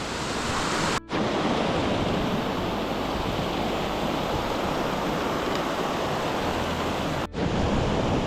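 Rushing spring snowmelt runoff at a mountain stream crossing in Grand Teton National Park, a steady loud broadband roar of water close by, with two brief dropouts.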